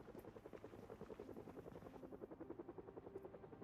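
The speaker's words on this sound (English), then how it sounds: "it sounds like the helicopter's left again" Helicopter flying overhead in the video game Project Zomboid, a steady rhythmic rotor thump that holds at moderate, somewhat distant loudness throughout, with faint background ambience and no voices.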